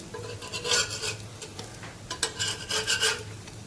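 A spatula scrapes and rasps against a hot pan while lifting and turning a sago thalipeeth flatbread, in several rough scraping strokes heard close up over a faint background hum.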